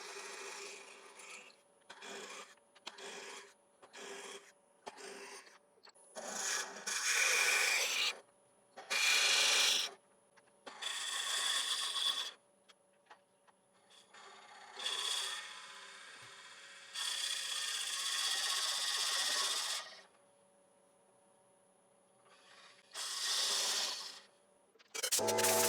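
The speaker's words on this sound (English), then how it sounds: "I'm going to drill down with a Forstner bit" Bursts of harsh, rasping drilling into a yew log with a Forstner bit at about 450 RPM, several long grinding passes separated by short pauses, with a steady motor hum underneath.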